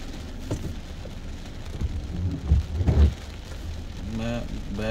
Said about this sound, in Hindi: अभी बारिश थोड़ी कम हुई है